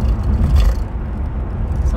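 A car drives along a country road past Maryland farmland, a steady low engine and tyre rumble with continuous road noise and no talk.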